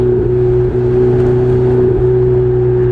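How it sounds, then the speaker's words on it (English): A Ferrari 488 Spider engine drones loudly at steady pitch, with brief dips marking quick gear changes as it downshifts on a bumpy road, heard close from inside the car. "Nice downshift. These shifts are really instantaneous."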